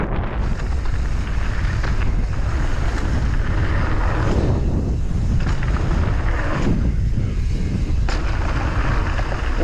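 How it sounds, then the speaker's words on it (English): Strong wind buffets the microphone outdoors at a dirt-jump riding spot, a loud, constant roaring rumble that surges and eases in gusts with no speech. "it is quite windy still"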